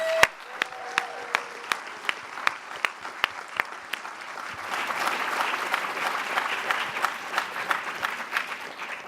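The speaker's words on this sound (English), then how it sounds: "Can we have a huge round of applause?" A small audience at a panel discussion on insecure work claps in a steady, distinct rhythm, individual claps standing out, swelling into fuller applause midway before continuing to the end.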